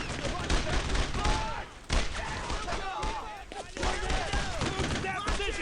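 Squad gunfire crackles in the Brothers in Arms: Road to Hill 30 video game, with dense overlapping rifle and machine-gun bursts and thuds, loud and sustained with a brief lull midway.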